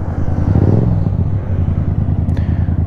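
A new rider's motorcycle idles in neutral with its throttle blipped once early on, a loud, close, continuous engine rumble swelling briefly before settling back to a steady idle.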